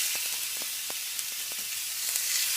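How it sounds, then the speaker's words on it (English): Beef steaks sear in a very hot pan, a steady broadband sizzle with a few sharper pops and crackles throughout, close and fairly loud with no voices. "so into our pan we are going to pop our steaks."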